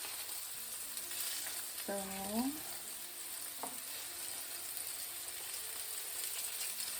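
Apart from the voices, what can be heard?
salmon steaks frying in a pan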